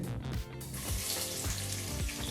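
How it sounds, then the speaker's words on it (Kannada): Chopped onions hit hot oil and ghee in a pan, giving a steady, close sizzle with a watery hiss that runs throughout, without speech. "ಈ ರೀತಿ ಸಿಂಪಲ್ಲಾಗಿ ಬಿಸಿ ಮಾಡಿದ ನಂತರ ಎರಡು ಈ ರೀತಿ ಚಿಕ್ಕದಾಗಿ ಕಟ್ ಮಾಡಿದಂಥ ಈರುಳ್ಳಿನ ಸೇರಿಸಿ"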